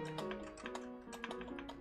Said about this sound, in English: I'm just gonna keep clicking enter everywhere I go.